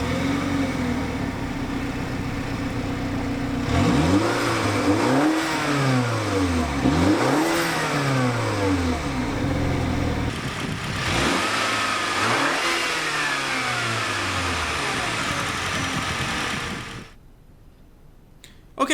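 A 2016 Mini Cooper Clubman S engine idles, then revs several times in rising and falling sweeps with throttle blips. It settles back to idle between pushes and cuts off near the end, close and loud with no talking.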